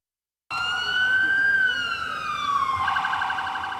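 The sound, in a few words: sirens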